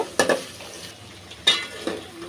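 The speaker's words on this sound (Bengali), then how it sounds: "এখন দেখুন পেঁয়াজের মধ্যে ভালো করে ভেজে নিছি" Onions frying quietly in a pan with dried fish, punctuated by a few sharp stirring and scraping clatters of a utensil.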